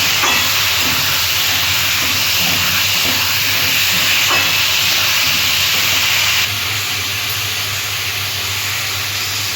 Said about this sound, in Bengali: আলু পটলটা কষিয়ে নেব।